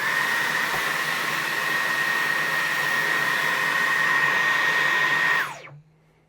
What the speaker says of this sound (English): Here comes boost mode on the V12.